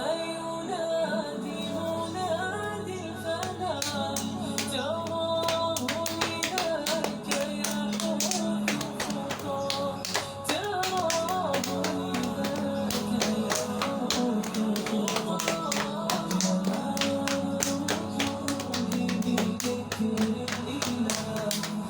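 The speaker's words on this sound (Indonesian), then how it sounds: "Kemudian kita tepuk kaki kanan kita" Hands repeatedly slap the right leg during a cell exercise workout, giving sharp rhythmic taps over steady background music, with occasional claps mixed in.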